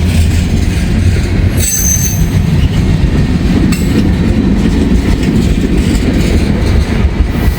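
Freight train with a DPU locomotive rolling past close by, a loud continuous rumble of railcars with wheel squeal flaring briefly and steady clickety-clack underneath.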